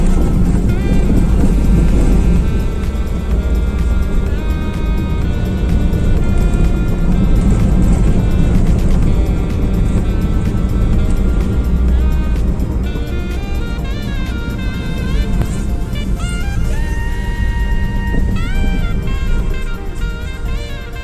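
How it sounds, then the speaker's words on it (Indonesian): Dense traffic with many large vehicles rumbles along the Pantura road between Rembang and Kudus, a loud continuous drone of engines with tonal whines from passing trucks, heard from inside a moving vehicle. "Jalurnya padat, banyak kendaraan besar."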